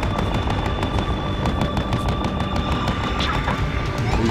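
Gunfire in Battlefield Hardline: a rapid, loud stream of close shots in irregular bursts lasts throughout, with a steady tone underneath.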